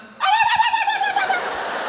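A voice imitates a turkey gobble: a rapid, warbling, high-pitched run of notes held for under two seconds, close and fairly loud.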